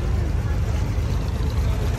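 A boat carries riders across the creek to the Dubai gold souk, its engine a steady low droning rumble with broadband water and wind wash, close and continuous, with no talking.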